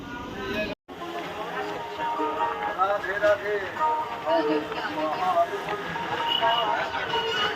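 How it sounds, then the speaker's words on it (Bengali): Howrah-Puri superfast express running through Belur in sleeper class, a continuous rolling rumble with rattling carriage noise and faint clicks. A brief dropout near the start, and people talking throughout. "ট্রেন বেলুড়ে এলো"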